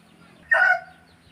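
A fighting cock lets out a single short crow, close and fairly loud against a quiet rural background.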